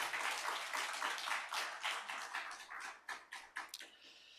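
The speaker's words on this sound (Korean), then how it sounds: "오늘 귀한 간증해준 친구들에게 박수를 한 번 더 격려합시다." A church congregation at a Friday worship service breaks into dense applause, steady clapping that fills the room and then thins into a few scattered, separate claps near the end.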